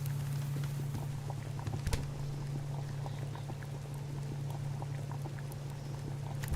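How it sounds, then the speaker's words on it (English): Steady rain in the farming survival game Subsistence, a soft continuous patter with faint scattered drops over a constant low hum, no talking. "Because it's raining again."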